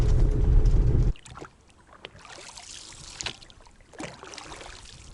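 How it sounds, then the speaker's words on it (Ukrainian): Inflatable boat paddle strokes swish and splash softly on calm water after a brief loud rumble at the start, with quiet stretches between strokes. "Зараз скоренько я човник, надую і запливаю."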